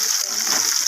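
Onion dropped into hot oil in a pan gives a brief, bright burst of splattering sizzle, close and loud.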